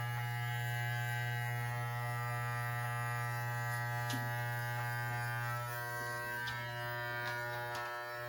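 Electric hair clippers buzz steadily and close up, trimming hair during a home fade haircut, with a constant hum broken by small crisp snips as the blades catch hair, and no talking.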